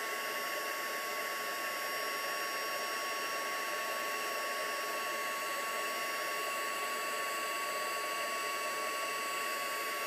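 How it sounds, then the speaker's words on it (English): A heat tool runs steadily for the full stretch, melting embossing powder on a handmade card: a continuous, fairly close hiss-and-whoosh of blown hot air with no talk over it. "there's something magical about watching that embossing powder rise and turn shiny"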